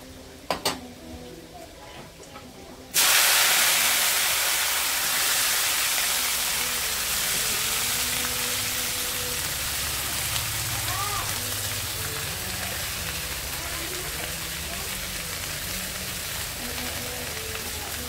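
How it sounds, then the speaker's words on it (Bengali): Garlic and dried red chilli hit hot oil, bursting into a loud, steady sizzle that keeps crackling and slowly eases, after a few faint kitchen clinks at the start. "রসুন আর শুকনো লঙ্কাটা অল্প লাল লাল হয়ে গেলে তারপর আমি শাকগুলো দিয়ে দেবো।"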